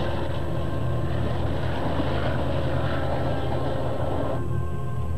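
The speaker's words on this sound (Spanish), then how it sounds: "Conocidos como los Big Blows, hacían el mismo ruido que un jet al despegar." A 10,000-horsepower gas turbine locomotive from 1964, one of the Big Blows, gives a loud, steady jet-like roar that holds constant throughout, heard up close with no voices.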